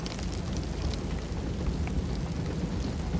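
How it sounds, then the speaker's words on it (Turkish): Heavy rain falls in Antalya after a storm, a constant, dense hiss of downpour on surfaces with a low rumbling undertone, steady and fairly loud throughout with no talking. "Fırtına yerini yağmura bıraktı."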